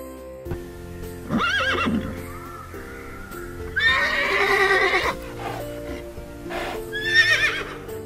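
A horse neighs several times in loud, shrill whinnies separated by short pauses, close by, against a faint steady hum.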